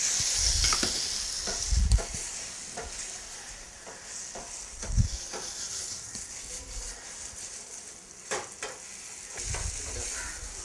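Prawns cook with chopped, softening tomato in a pan, making a continuous moderate sizzle. Several dull knocks of stirring break through it at irregular intervals.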